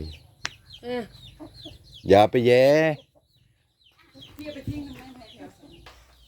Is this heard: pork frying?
no